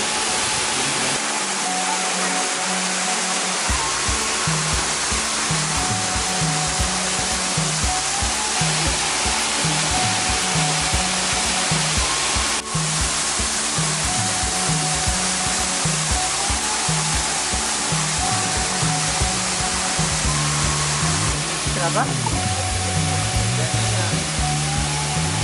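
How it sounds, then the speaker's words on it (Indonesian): A waterfall in the Lembah Harau valley of Sumatra roars as a steady, dense wash of falling water, loud and close. It runs unbroken throughout, with a faint tonal layer sitting underneath. "Dia pasti ngarahinnya ke air terjun"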